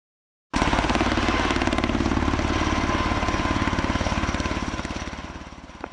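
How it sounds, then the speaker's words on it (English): A loud, steady rescue helicopter rotor thumps in rapid rhythm, starting abruptly and slowly fading as it passes overhead, with no voices. "soon enough, she was spotted by a rescue helicopter"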